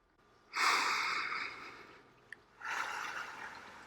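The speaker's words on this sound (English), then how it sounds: "You breathe." Two long, audible breaths close to the mic: a deep inhale held for over a second, a brief pause, then a slow, airy exhale, taken to calm anger.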